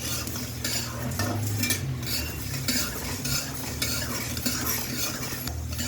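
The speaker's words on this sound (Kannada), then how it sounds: "ಸಣ್ಣ ಹುರಿ ಇಟ್ಕೊಂಡು ಹುರ್ಕೊಳ್ಳಿ." Coriander seeds roast over a low flame in a pan while being stirred, a steady dry scraping and rustle with light utensil clinks and soft sizzle throughout, close by, without talk.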